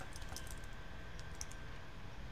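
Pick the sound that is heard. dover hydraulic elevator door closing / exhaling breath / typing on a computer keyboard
typing on a computer keyboard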